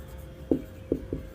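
Marker or chalk strokes on a board during a real analysis lecture, three short scratchy taps spaced apart, fairly faint over a quiet room with no talking.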